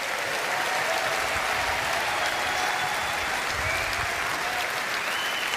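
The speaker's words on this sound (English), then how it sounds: "Give him a round of applause." A large audience at the Reform UK national conference applauds in a steady, dense round of clapping that stays loud and even throughout, with no speech over it.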